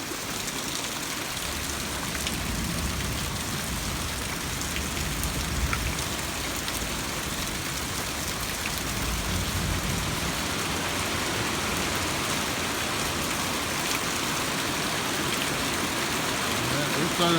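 Steady, dense rain falls on an open cattle pasture, a continuous close hiss of drops without pause for the whole stretch, loud and even, with no other clear sound standing out.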